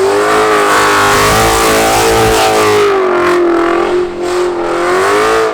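Ford Mustang GT engine revs hard and steadily while the car spins donuts, a loud, close, sustained roar with a wavering pitch and a brief dip near the end.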